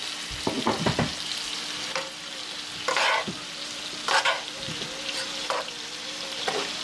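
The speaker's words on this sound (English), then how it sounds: "Drizzle just a little bit of the soy sauce in here." Pork fried rice sizzles steadily in a hot pan as soy sauce is drizzled in, with a handful of sharper bursts and scraping stirs rising above the constant frying hiss.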